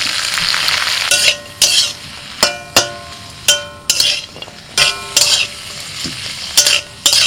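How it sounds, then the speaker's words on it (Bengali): Bottle gourd greens stirred in hot oil in a wok with nigella seeds and green chilli, a steady close sizzle punctuated by about ten sharp scraping stirs of a utensil against the pan. "লাউ শাকটা তেলের মধ্যে একটু হালকা করে নাড়াচাড়া করে নিলাম"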